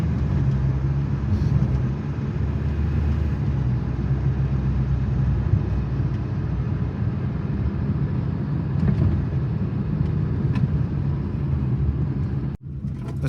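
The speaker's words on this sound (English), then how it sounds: "it shifts up to the third gear and I still have power to go up the hill" A Nissan Be-1 climbing a hill and shifting up into third gear, a steady in-cabin engine and road rumble that holds its pull throughout, with a short thump near the end.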